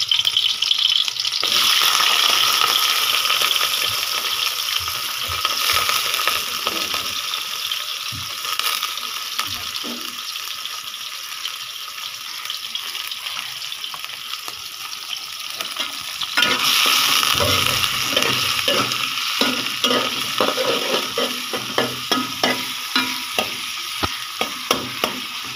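Onions and shrimp frying together in a pan with long beans, a loud continuous sizzle broken by scraping stirs, with a burst of hissing midway as more goes in and rhythmic spatula taps toward the end.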